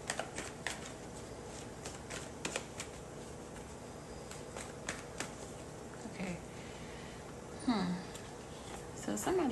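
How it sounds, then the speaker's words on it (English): Light, rapid papery riffling of tarot cards in short bursts, close by, with soft handling noises and a brief murmur near the end. "I feel like I should keep shuffling."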